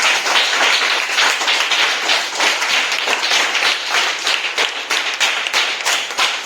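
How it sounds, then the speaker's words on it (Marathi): A school audience at a Konkan village primary school gathering claps loudly and steadily, a dense, continuous round of applause lasting several seconds with no talk over it. "आपल्या कोकणासाठी आपण जोरदार टाळ्या वाजवूया"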